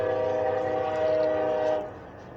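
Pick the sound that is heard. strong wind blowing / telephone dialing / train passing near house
train passing near house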